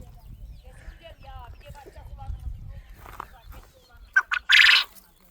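Soft chirping calls of quails mix with quiet talk and shuffling, ending in a short burst of loud rustling noise.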